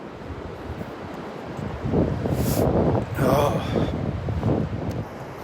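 Wind gusts sweep across the beach at Delnor-Wiggins, a steady broadband rush that swells in stronger bursts around the middle, with surf-like noise underneath and a brief spoken exclamation.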